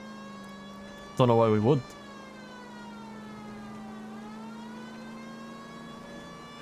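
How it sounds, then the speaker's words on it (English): A short police car siren wail sounds in the 1940s Los Angeles crime video game L.A. Noire, a loud burst of under a second with rising and falling pitch over a steady engine drone, while someone talks. "Put on the siren."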